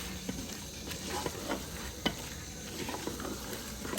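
Beef and turnip pieces frying in oil, a steady close sizzle with stirring scrapes and occasional sharp clicks of a spoon against the pan, no speech.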